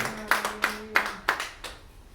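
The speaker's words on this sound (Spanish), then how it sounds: "Dele palmas al Cristo de la gloria." A church congregation claps hands in a quick, uneven burst of five sharp claps, close and fairly loud, with a faint sustained tone underneath.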